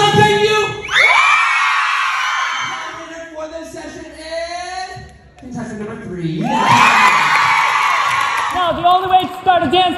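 A large event crowd screams and cheers in two loud surging waves as a host raises a hand to cue them, the noise dropping away between bursts while the host speaks.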